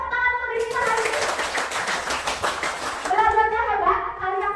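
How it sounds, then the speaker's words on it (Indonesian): A class of children claps together in one sustained burst of applause lasting several seconds, thick and steady, with an adult voice speaking at the start and end and children's voices mixed in. "Tepuk tangan untuk diri kita hari ini."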